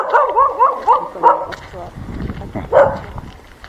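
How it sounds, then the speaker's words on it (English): Several dogs in a Jamaican neighbourhood in Nazarene, St. Thomas, barking in quick repeated bursts at close range, with a person talking briefly between the barks. "You could have a lot of dog here barking."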